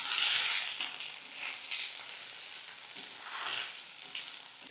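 Cabbage and shrimp mash being stirred over a low flame in a pan, a soft sizzling hiss that swells and fades with each pass of the spatula, heard alone.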